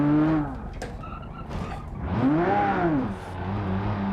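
A rally car in a city-streets rally game takes a corner, its engine note rising and falling in loud sweeping revs with a brief tyre squeal, close and alone without talk.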